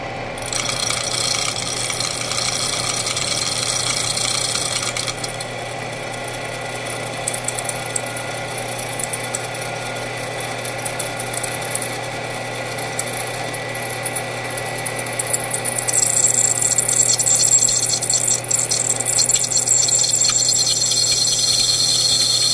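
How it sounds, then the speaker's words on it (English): A loud power drill grinds steadily into metal, drilling bolts out of a disc clutch backing plate, its whine shifting pitch partway through and growing harsher toward the end. "we're machining the bolts out of the backing plate"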